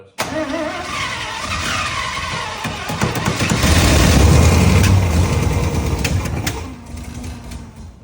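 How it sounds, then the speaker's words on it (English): A 1967 IH Loadstar 1600 truck engine cranking on its starter: a continuous loud churning whir that swells and grinds heavily in the middle, then eases back toward the end, close by with no voices. "I don't want to keep cranking the starter"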